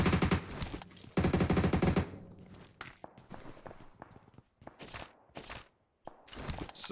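MG3 machine gun fire in PUBG Mobile: rapid rattling bursts, loud and dense at the start, then shorter separated bursts with gaps and footstep-like shuffles between them.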